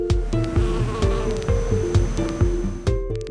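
Bees drone with a steady close buzz that holds throughout, loud and continuous with a few soft clicks and knocks beneath, no voices.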